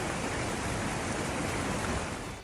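The flooded Sabari river rushing under the Jhapra bridge after three days of heavy rain, a dense, loud, continuous roar of churning water with no voices.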